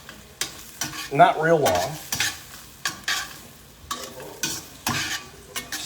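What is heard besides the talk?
mushrooms sizzling and being stirred in a pan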